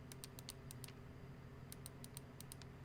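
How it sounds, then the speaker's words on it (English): Two quick bursts of sharp button clicks on a Razer Wolverine Ultimate controller, several rapid presses each, close and crisp over a faint hum. "Here's an example of what they sound like when you press buttons."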